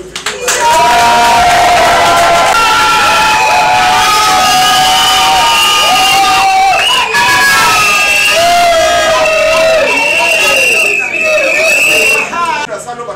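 A wedding crowd cheers and applauds loudly, with shouting voices and sung or whooping tones rising above the constant roar of the gathering.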